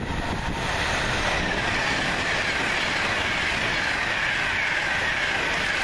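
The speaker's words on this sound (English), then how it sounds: "this is the next Pendolino and it's 390127, working 1A22 from Liverpool Lime Street to London Euston" Pendolino passenger train 390127 passing through Rugeley Trent Valley station on a Liverpool Lime Street to London Euston service, a loud steady rumble and hiss of wheels on rail that holds constant throughout, with no talk.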